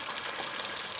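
Water gushes out steadily while filling up at a roadside stop in the Smoky Mountains, a loud, broad rushing hiss that stays even and close, with no voices over it.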